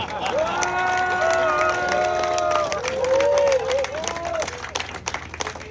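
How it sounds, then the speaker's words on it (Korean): A crowd at a Democratic Party political rally in Yeonggwang applauds and cheers, a steady wash of clapping and crowd noise beneath a prominent voice that rises and falls throughout. "저기에 박수 안 치는 분도 박수 한번 쳐주세요"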